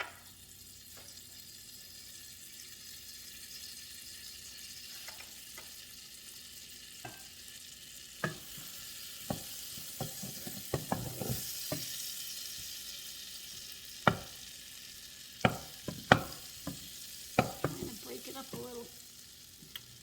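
Three tablespoons of butter melting and being stirred in a pot to start a roux for a one-pot chicken broccoli cheese pasta, with a soft sizzle and sharp spoon scrapes and clinks that grow busier toward the end.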